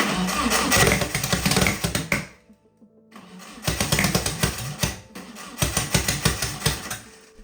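A 300-horsepower turbo engine in an abandoned 1980s supercar roars and revs in bursts, cutting out briefly into near silence before firing back up with rough, rattling exhaust blasts.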